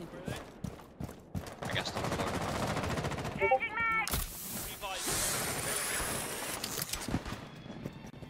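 Rapid automatic gunfire in Rainbow Six Siege, loud bursts and sustained rattling shots over several seconds, with a brief chiming game cue in the middle and players talking over it.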